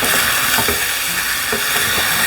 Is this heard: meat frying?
yes